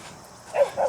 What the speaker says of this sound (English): yeah, you hear my dog barking.